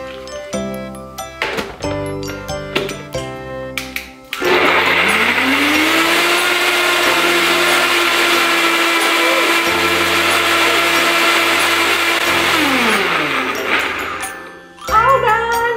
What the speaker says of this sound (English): See, it's just a blender.